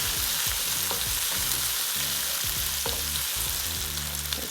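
Eggplant and pork stir-fried in a hot pan with spicy garlic sauce, a steady loud sizzle broken by repeated scraping strokes of the spatula, close and without voices.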